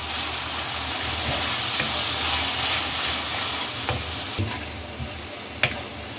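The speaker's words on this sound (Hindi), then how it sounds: "मसाले को अच्छे तरीके से 2 से 3 मिनट तक भूनें" Red chilli, turmeric and coriander powder fry in a pan for aloo gobi, a loud steady hiss and sizzle with occasional spoon taps and scrapes as the spices are stirred.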